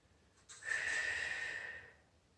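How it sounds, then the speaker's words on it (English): A single deep breath drawn in through the nose during a stretching exercise, a soft airy inhale that swells over about a second and a half and fades, close and quiet. "Deep breath in."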